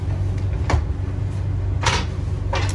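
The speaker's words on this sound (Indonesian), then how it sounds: "Nah, jadi pintu geser sekarang." A manually operated sliding door on a Malabar business-class train, its disabled automatic mechanism leaving it pushed by hand, gives a few brief scraping slides over a steady low rumble of the moving carriage.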